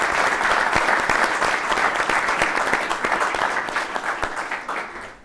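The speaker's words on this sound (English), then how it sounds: "we're still gonna clap for her and the food that she organized" An audience at an event in Berlin claps in loud, dense applause that holds strong, then gradually thins and fades toward the end.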